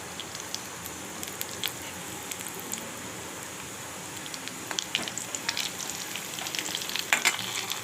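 Crushed black pepper sizzles and crackles steadily in hot ghee with cumin while cooking venn pongal, a soft continuous frying hiss with scattered sharper pops.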